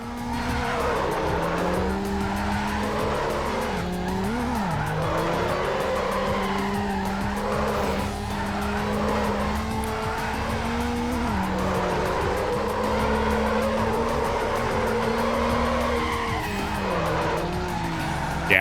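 Mazda Miata drifting in Need for Speed: Underground, with continuous game engine drone and long, wavering tire squeal held loud and steady throughout, pitch bending as the car slides through corners.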